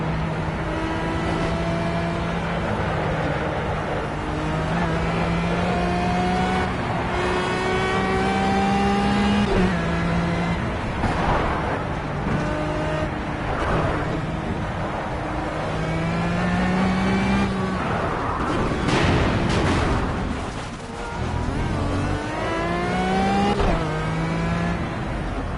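Race car engines in a racing video game whine and rev continuously through a lap, rising in pitch with each gear, dipping on shifts and braking, loud and steady with no talk.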